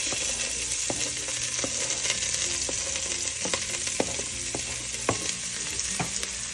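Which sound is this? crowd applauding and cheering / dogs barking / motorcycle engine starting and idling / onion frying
onion frying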